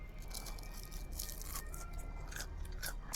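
Crispy fried spiral potato made at home being eaten up close, with soft crunching and chewing bites repeating steadily over a low background hum, no talking.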